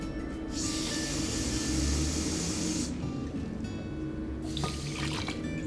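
Water pours into a cooking pan holding a cup of quinoa, a soft hissing splash for a couple of seconds, then a brief second pour after a pause, quiet and close with no talking.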